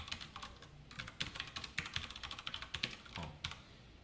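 Typing on a computer keyboard during a React and Android coding lesson, a quick, irregular run of close, crisp key clicks with short pauses and no talk.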